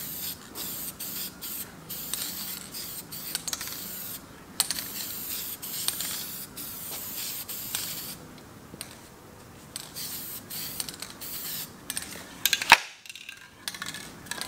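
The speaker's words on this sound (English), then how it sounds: "I'm just going to mist that color on there." A spray gun mists tinted finish onto a cabinet in short hissing bursts, fairly quiet and up close, with brief pauses and a few clicks between passes.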